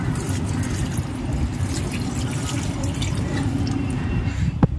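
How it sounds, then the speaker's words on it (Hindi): Water poured onto potted plants outdoors, a steady close splashing and trickling wash that runs continuously throughout, with a sharp single knock near the end and no speech. "देखो पानी पिला रहा हूँ।"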